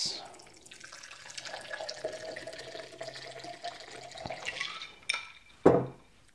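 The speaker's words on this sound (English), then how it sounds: "and put it in a nice glass." A shaken rum and lemon juice cocktail with ice poured into a glass, a splashing liquid pour with a few clinks toward the end, moderately loud and close, with no one talking.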